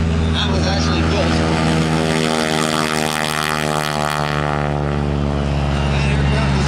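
A blue North American T-6 Texan taking off at the Watsonville Fly-In airshow, its radial engine and propeller roaring loud and steady with a rising, shifting drone, while an announcer talks over it.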